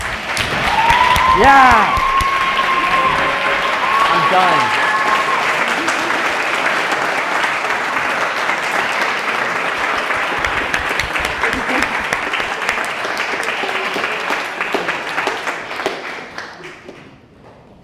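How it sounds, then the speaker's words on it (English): An audience at a school presentation event gives a long round of dense, loud applause that holds steady and then tapers off at the end, with a voice briefly speaking near the start. "I think you deserve a big round of applause"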